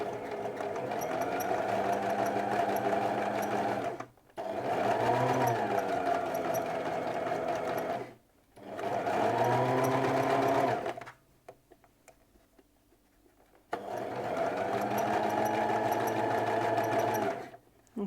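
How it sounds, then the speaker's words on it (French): A sewing machine topstitches 2 mm from a seam in four close, steady bursts of fast motor whir and needle chatter, separated by short pauses as the fabric is pivoted. "je fais ma surpiqûre à 2 mm de la couture"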